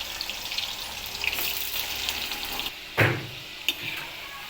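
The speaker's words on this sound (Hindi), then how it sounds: "अब बारी बा आलू का, आलूयो तल ले बढ़िया से" Potato pieces fry in hot oil in a pan for a home-style potato and parwal curry, a steady close sizzling hiss broken by a couple of brief utensil clatters near the end.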